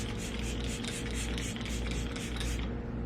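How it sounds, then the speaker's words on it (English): Setting spray is misted onto a face in a steady, close hiss made of rapid pulses, lasting a few seconds before cutting off. "and then more setting spray"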